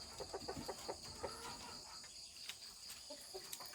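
Chickens cluck in short, quiet bursts at a laying-hen farm, a few rapid clucks repeating at moderate distance over a faint background hum.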